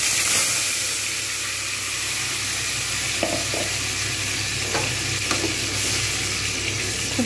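Spice masala sizzling and frying with potatoes in a pan for a white aloo dum, a steady close crackle and hiss with occasional stirring scrapes throughout.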